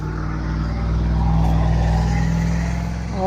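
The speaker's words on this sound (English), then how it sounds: "If my microphone was working properly, you probably did not hear that truck." A truck rumbles past close by with a loud, steady low engine drone that swells slightly in the middle and eases off toward the end, alone without talk.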